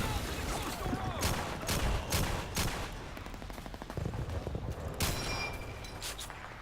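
Rapid bursts of video game gunfire crackle in quick volleys, some sustained like automatic fire, with faint voices mixed underneath. The game is Call of Duty 2, in the Pointe du Hoc battle.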